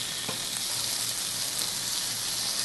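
Chicken browning in a pan, a steady, soft sizzle and spatter of frying meat that runs on evenly throughout with no one speaking.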